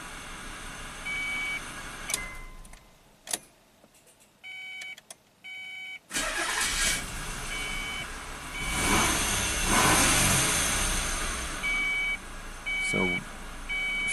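A Ford Probe engine idles steadily while its base idle speed is adjusted, a broad rumble that swells after a quieter start, with repeated electronic beeps chirping over it.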